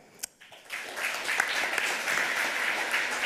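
An audience at a Chaos Communication Congress talk breaks into applause to welcome a speaker, starting with a few scattered claps and swelling into steady, full clapping.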